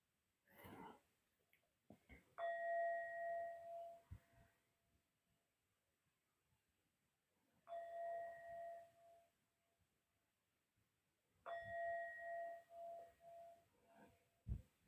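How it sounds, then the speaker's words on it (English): A meditation bell is struck three times, each a clear ringing tone that sustains and slowly fades over a few seconds, with near-silence between strikes in a quiet room. "so I will ring the bell"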